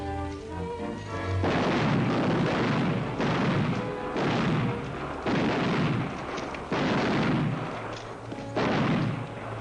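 Gunfire rings out in a 1940s western film gunfight: a rapid series of loud, echoing shots and booms in regular bursts, without talk.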